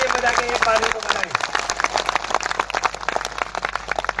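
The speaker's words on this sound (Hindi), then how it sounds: "यदि आप सहमत हो तो तालियां बजा के एक बार को बताएं।" Applause from the crowd at a public gathering, a dense, steady patter of many hands that swells in after a brief voice at the start and carries on loudly to the end.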